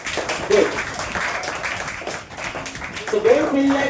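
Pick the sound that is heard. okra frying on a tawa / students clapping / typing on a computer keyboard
students clapping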